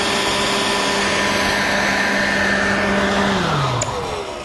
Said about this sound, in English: So when I turned that blower on, this skirt kind of bowed out a little bit, and it created a pocket that would trap that pressurized air.